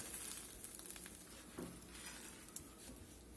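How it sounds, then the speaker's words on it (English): A flour tortilla for a birria quesadilla sizzles softly in a hot skillet while it is shifted around, giving a faint, steady hiss with a few light scrapes. "I'm just moving it around fairly often, because you know skillets always have a hot spot or two."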